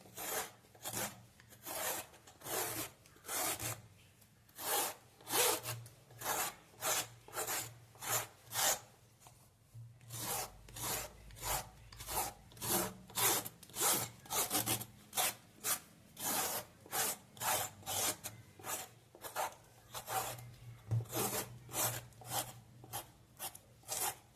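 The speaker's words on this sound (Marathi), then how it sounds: "आता याचे आपण आधी साल काढून घेऊया एका चमच्यानं किंवा साल काढायचे आहे ना अशी आधी साल काढून घ्यायचे आहे" A spoon scrapes the skin off a bottle gourd in a steady run of short, rhythmic rasping strokes, close and fairly quiet, with a brief pause midway and no voices.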